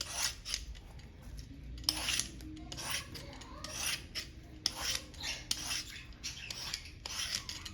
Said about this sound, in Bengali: দেখেন কত সুন্দর করে ছোলা হয়ে যাচ্ছে